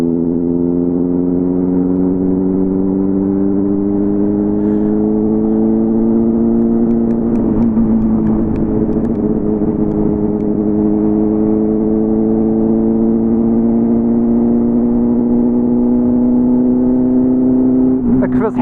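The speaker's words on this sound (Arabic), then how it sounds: "اكفس حاجه هي تسوق موتور مخنوق، اكفس حاجه صح" A choked motorcycle engine idles rough and steady on a road, its low droning hum wavering slightly in pitch throughout, close and loud with a brief rise in roughness midway.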